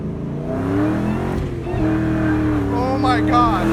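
A car's supercharger whining through a homemade sound tube, a rising and falling mechanical whine over engine rumble as the car revs, with people talking and exclaiming over it.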